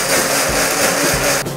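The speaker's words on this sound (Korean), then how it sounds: "불린 쌀과 물을 넣어 곱게 갈아줍니다." A blender whirs steadily and loudly, grinding soaked rice and water into a thick mixture with a rough, churning hum that cuts off abruptly at the end.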